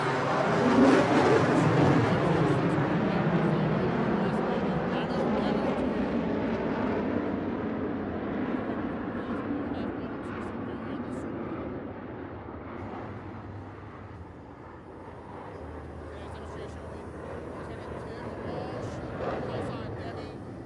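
A US Navy F-18 jet roars past at an airshow-style celebration, a loud broad rush that slowly fades into distance, with an announcer's voice heard over it.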